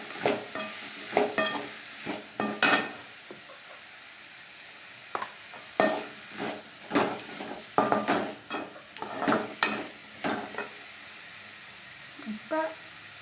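Ivy gourd sautéing in oil in a pan, stirred with a utensil in a steady run of scrapes and clatters over a low sizzle, close and fairly loud.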